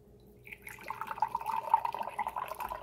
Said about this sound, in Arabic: ونفس الكاس غادي نضيفوا ماء الزهر